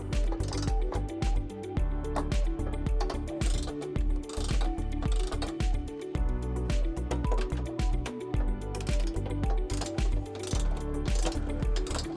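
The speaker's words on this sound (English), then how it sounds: "we're gonna go ahead and torque it according to the manufacturer's specification. And we're gonna use a 13mm socket." A ratchet wrench with a 13mm socket torques trailer hitch bolts on a 2019 Toyota C-HR, giving rapid, loud, close clicking bursts in a steady back-and-forth rhythm throughout.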